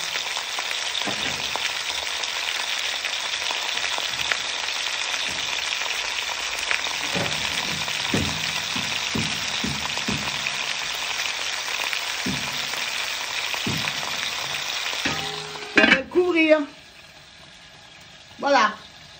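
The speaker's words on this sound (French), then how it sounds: "On va déjà commencer à faire dorer le veau, comme ça, tout seul." Veal browning alone in a pan, a loud, steady sizzle and crackle running continuously with scattered stirring clicks, then fading near the end as a lid is handled and a voice speaks.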